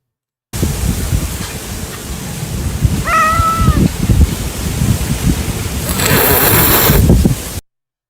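An angry-sounding cat meows once in a short, bent cry around the middle, amid steady rain-like noise and low rumbling, with a burst of hiss near the end.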